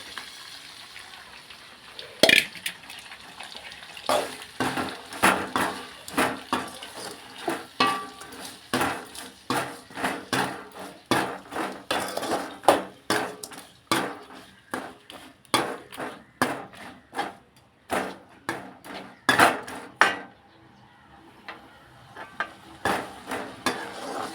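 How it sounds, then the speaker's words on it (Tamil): Chopped tomatoes sautéed in a pan, with a spoon scraping and stirring in frequent irregular strokes and clinks against the metal over a soft, steady sizzle, close and fairly loud throughout. "வெட்டி வச்ச தக்காளி எடுத்து போட்டு நல்லா வதக்குங்க"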